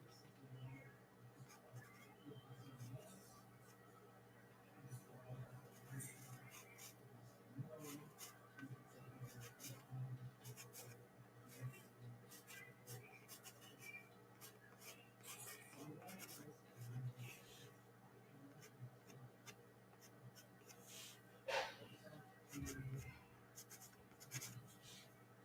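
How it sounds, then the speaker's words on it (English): A pencil drawing on paper beside a watercolor painting of Christmas flowers: soft, faint, continuous scratching and rubbing strokes with small irregular bursts, close up and quiet, with low background hum. "Just with my pencil"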